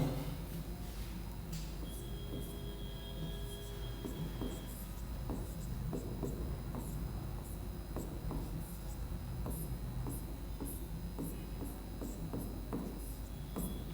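Chalk or marker scratches across a board during a maths lesson on factorisation, with steady strokes and taps forming a near, continuous run of writing sounds over a low room hum and no speech.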